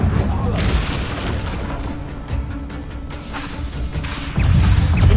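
An Expelliarmus spell is cast in the Hogwarts Legacy video game, giving deep booming impacts and rumbling whooshes that build and hit hard near the end, with a voice heard in the mix.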